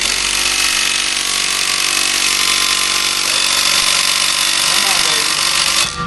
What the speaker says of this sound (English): an impact wrench, the way it works, it's pretty much about time duration